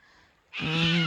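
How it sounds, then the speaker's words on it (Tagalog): A single loud honking call from a large bird, goose-like, breaking in suddenly after a quiet moment and holding for half a second, by the Latrobe River in Australia. "Naririnig nyo ba yung huni ng ibon?"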